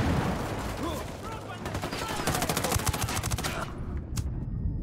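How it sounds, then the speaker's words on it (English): Rapid machine-gun fire in the shooter video game Ghost Recon Wildlands, with dense bursts of shots rattling through the middle amid busy in-game combat noise, trailing off toward the end. "I got sawed up by a fucking machine gun"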